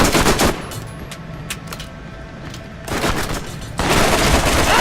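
Gunfire in the Borderlands video game, dense rapid automatic bursts with crackling impacts, loud and close, easing briefly in the middle before surging back to full volume.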